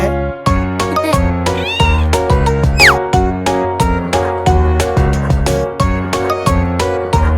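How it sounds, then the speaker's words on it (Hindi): A cat meows in a children's nursery rhyme, with a couple of rising, gliding meows sitting on top of a steady, bouncy musical backing that plays throughout. "बिल्ली"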